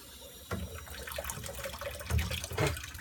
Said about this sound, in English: I'm gonna take the water out.